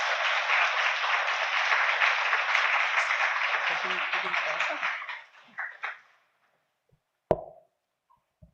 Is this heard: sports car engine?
no